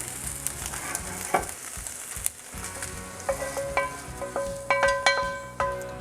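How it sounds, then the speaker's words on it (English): Andouille sausage going into a Cajun gravy in a pan for keto shrimp and grits, crackling with a steady sizzle and then a series of sharp metallic clinks and scrapes from stirring near the end. "I've had the andouille sausage cooking down for about 10 minutes, and now we're gonna add it to the gravy"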